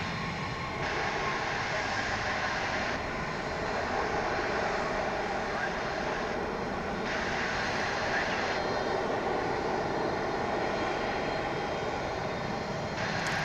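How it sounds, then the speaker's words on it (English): At DFW airport, a Boeing 737 airliner arriving from Omaha produces a steady, fairly distant jet roar that holds throughout, with people talking over it. "Coming in from Omaha, that 737."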